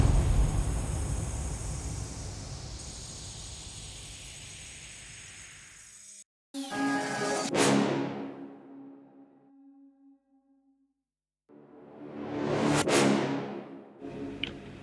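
Ambience and effect samples from a trap track: a loud, broad noisy wash fading over several seconds, a sudden cut, then bursts of swelling noise and tonal hits with sharp spikes, a near-silent gap, and another rising noise sweep. No voices.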